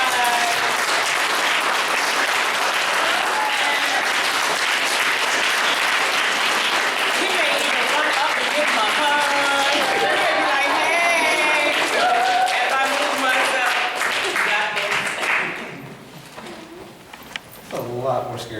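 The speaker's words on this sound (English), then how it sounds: "So Eric, we're gonna like clap you to the stage." A small audience at a poetry reading in a fine arts gallery claps steadily for a long stretch, with some voices mixed in, before the applause fades into scattered claps and room noise.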